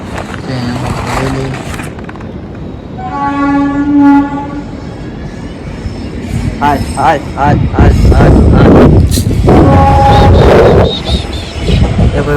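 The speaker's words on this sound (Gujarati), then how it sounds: "હવે રેલગાડી આવી ગઈ છે" A train arrives with several loud blasts of its horn, followed by rattling wagons and squealing wheels close by, with brief voices in the background.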